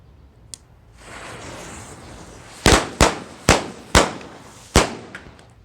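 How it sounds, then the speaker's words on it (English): Black Market Super Loud Crackers by Sun's Fireworks go off outdoors as five sharp, very loud bangs in an uneven series, each with a short echo, after a faint fuse pop and hiss. "Black Market Super Loud Crackers by Sun's Fireworks."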